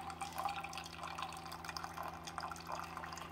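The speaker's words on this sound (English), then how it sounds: "I'm going to run that entire reservoir through." Keurig coffee maker running a water-only rinse brew with no K-cup, a soft continuous trickle and dripping of water into the cup over a low machine hum, fairly quiet and steady.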